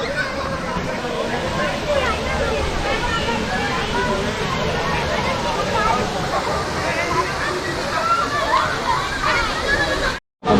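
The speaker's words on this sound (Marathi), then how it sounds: "इथे छानसा वॉटरफॉल आहे" A waterfall at Chikhaldara hill station rushes and splashes continuously at close range, with a murmur of distant crowd voices beneath the roar.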